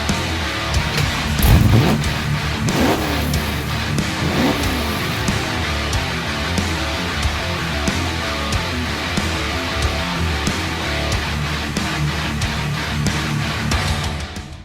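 Supercharged Holden VK project car built for Summernats, with its engine roaring loudly and continuously and a few rev swells in the first seconds before it settles into a rough, steady drone.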